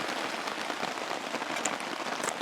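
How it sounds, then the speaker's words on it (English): Heavy rain falling outdoors on a trip to Three Mile Lake, a steady, even hiss of drops on surfaces that continues without a break at a fairly low level. "It's raining too loud anyway."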